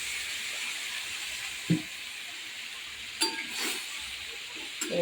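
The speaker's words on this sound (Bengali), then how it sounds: "ডাঁটা আলু আমি বেশি ভাজবো না হালকা একটু নাড়াচাড়া করে নিলাম" Stalks and potatoes frying in a pan, a steady soft sizzle and hiss with a few brief scrapes and clinks of stirring near the end.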